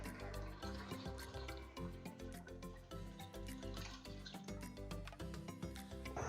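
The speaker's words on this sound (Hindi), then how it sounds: "अब हम इसमें डाल देते हैं पानी।" Water poured steadily into a pot of fried meat and spices for chana daal gosht, a continuous splashing and trickling stream, fairly loud and close throughout.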